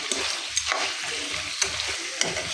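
Cardamom, cinnamon and garam masala frying in a pan, a steady close sizzle broken by a few sharp clinks and scrapes of a stirring utensil, no talk.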